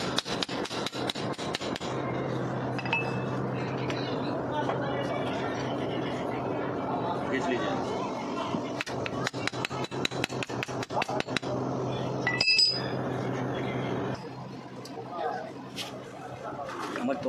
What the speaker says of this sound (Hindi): तो अभी एक्सल हाउसिंग बोल्ट टाइट किया जा रहा है, देख सकते हैं क्रॉस लगाया जा रहा है।